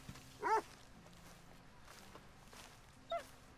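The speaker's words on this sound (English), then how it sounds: "Dog." A dog in Red Dead Redemption 2 gives a short burst of barks and whimpers, then one brief yelp a few seconds later, over quiet game ambience.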